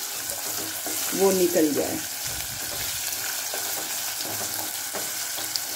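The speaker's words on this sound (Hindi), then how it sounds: "कटहल को अच्छे से फ्राई करेंगे ताकि जो इसका कसापन होता है" Jackfruit frying in a pan for korma, a steady sizzle with stirring scrapes running throughout, and a brief voice speaking near the start.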